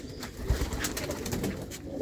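Pigeons of a Moti breed coo in low, soft throaty calls, faint and somewhat distant, over a quiet background with scattered chirps.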